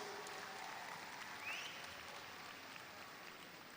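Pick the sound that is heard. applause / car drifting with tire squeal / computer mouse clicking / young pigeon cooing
applause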